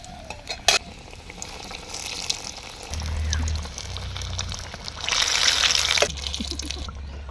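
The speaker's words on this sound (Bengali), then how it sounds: "তো আমাদের কাটলেট ভাজা হয়ে গেছে" Chicken and pumpkin cutlets fry in hot oil with a low, bubbling sizzle that swells into louder hissing bursts as pieces go in and are turned.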